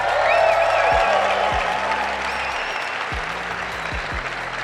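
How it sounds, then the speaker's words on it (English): A conference audience applauds in a large hall, a steady wash of many hands clapping together. It holds evenly and eases off slightly toward the end. "Clap it the fuck up."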